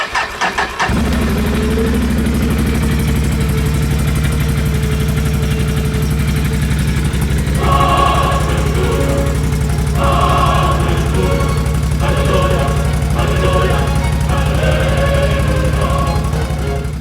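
A Can-Am Outlander L 570 ATV engine with freshly installed spark plugs cranks and catches, then settles into a steady, loud idle running on both cylinders, with a few throttle blips and revs layered on top.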